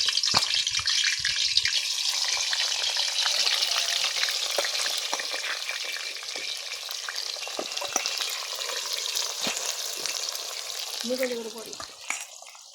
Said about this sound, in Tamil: முதல்ல கத்திரிக்காவை பொரிச்சிடுவாங்க அதுக்கே எண்ணெயை ஊற்றி சூடு பண்ணியாச்சு அடுப்பில்